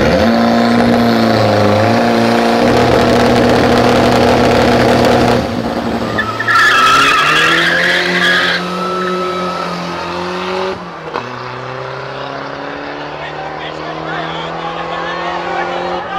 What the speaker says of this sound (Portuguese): o Peugeot vai correr agora contra o golzinho